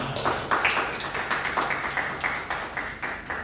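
Scattered clapping from a seminar audience, a few distinct, uneven claps rising and falling rather than a full ovation, close and fairly loud with no talk.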